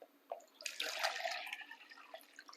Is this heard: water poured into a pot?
yes